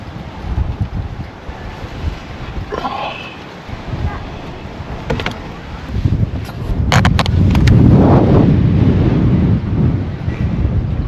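Strong wind gusts roar across an Australian outback road and buffet the microphone with a deep, rumbling rush that swells and builds toward the end.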